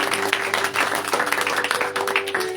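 Applause rings out in a church congregation acclaiming Jesus during a service: a steady wash of many hands clapping with sharp individual claps, filling the room at moderate loudness and continuing without a break.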